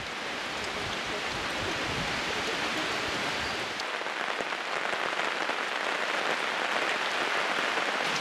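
Steady rain falls close by at a mountaintop hermitage, a dense hiss of drops on a hard surface that continues throughout, with no voices.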